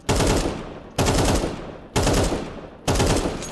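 Rifle fire in the Counter-Strike 2 game while the player moves without counter-strafing, four loud, sharp bursts about a second apart, each ringing out and decaying before the next, with no speech.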